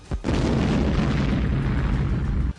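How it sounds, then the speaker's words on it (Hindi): A tank explodes in a sudden heavy blast that erupts into a loud, sustained roaring rumble, filling the space for over two seconds before cutting off. "अचानक टैंक पर हमला हुआ, जिससे धमाके के साथ वो फट गया"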